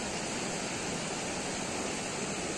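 Waterfall seen from an upper tower, a steady, even rush of falling water heard from a distance, unbroken and moderately quiet.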